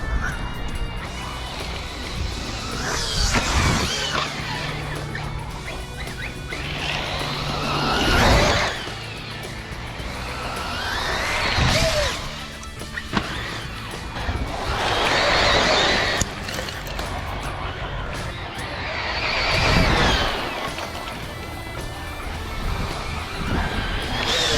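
A Kyosho MP-10e 1/8-scale electric RC buggy runs laps on a blown-out, bumpy dirt track, its whine rising and fading as it passes, with bursts of tire scrub and landing thumps at middle distance.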